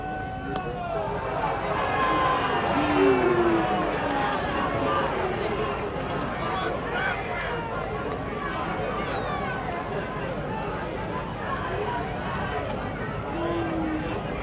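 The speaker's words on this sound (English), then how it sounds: "Crowd are calling for runs" Crowd at a 1976 Pakistan versus Australia Test cricket match calling out for runs, a steady distant babble of many voices with scattered shouts running throughout.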